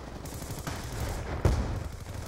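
Heavy gunfire from an AC-130 gunship in the video game Call of Duty: Black Ops II, a couple of thudding shots over a low, rumbling battlefield din, fairly faint and with no speech.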